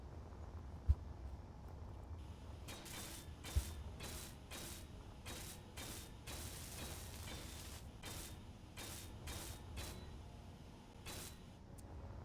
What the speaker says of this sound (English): Let's get all these welded up.